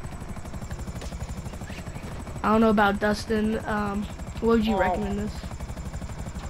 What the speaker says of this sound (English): So I definitely recommend this helicopter.